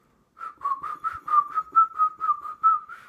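A person whistles a steady series of short, evenly spaced notes at one pitch, close and clear, running about three seconds with no talk.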